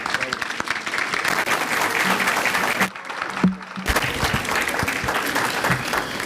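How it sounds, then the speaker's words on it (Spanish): An audience gives loud, sustained applause welcoming a university rector at a Mexican university event, dense clapping throughout, broken by a short near-silent gap with a thump before the clapping resumes. "Lo recibimos con un fuerte aplauso."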